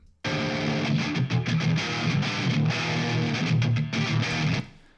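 Heavily distorted electric guitar through an amp simulator plays a chunky, palm-muted riff with bright, cutting highs, loud and alone, stopping abruptly near the end.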